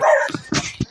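Mikey, a large dog likened to a German Shepherd, gives a few short close barks and yips in quick succession, loud and near, with no talking.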